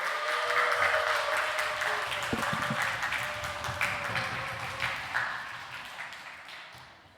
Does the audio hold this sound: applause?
yes